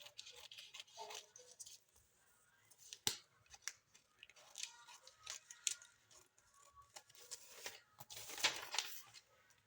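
Scissors cut through fabric for a structured bustier, making a run of crisp, close snips at an irregular pace with short pauses. One sharp cut stands out early, and a denser cluster of snips comes near the end.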